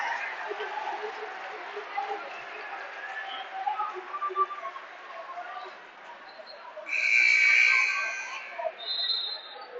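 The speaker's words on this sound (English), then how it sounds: "And we have a whistle." A referee's whistle at a boys' high school basketball game between Rocky Mountain and Fort Collins gives one sustained, shrill blast late in the clip over a steady murmur of gym crowd noise.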